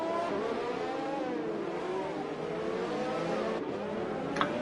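F1 cars in a racing video game on the Monaco circuit, a continuous high whining engine drone with shifting pitch as cars rev and pass, steady and fairly loud with no voices.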